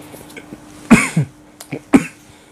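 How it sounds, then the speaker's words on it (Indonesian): A man coughs alone in a quiet room at night, two or three harsh bursts spread over a couple of seconds with a steady faint hum underneath. "Wah, batuk."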